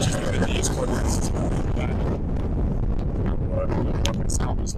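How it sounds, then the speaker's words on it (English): Strong, steady wind buffets the microphone on a windy downtown street corner in Regina, a loud continuous low roar that holds for the whole stretch with no letup. "This corner, which is the windiest corner"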